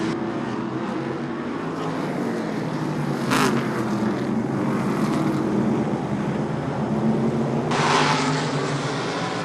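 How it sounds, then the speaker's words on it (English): Short track race cars roaring down the back straightaway in a Super Short Track Racing Series race, a steady dense engine drone with two brief louder surges as cars pass, no talk. "Down the back straightaway, Zagerty about a car length behind the number 38 on the back straightaway"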